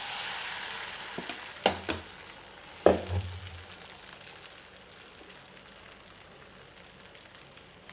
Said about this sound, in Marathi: इथं मी तवा टाकून घेतला त्याच्यावरती थोडंसं तेल टाकलं तर मी आता त्याच्यावरती हे बॅटर टाकून देते